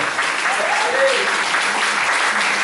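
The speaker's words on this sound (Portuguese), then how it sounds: "Você pode dar uma salva de palmas?" Church congregation applauding during a sermon at a COGIC church service, a steady dense wash of clapping that fills the whole stretch at close range, with a faint voice briefly audible within it.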